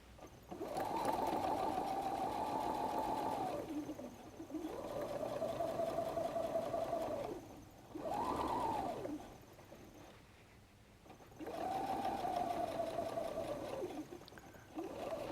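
Sewing machine topstitching the seam of a messenger bag over faux suede, running in long steady bursts of whirring stitches with short pauses between them, close and fairly loud with no talking.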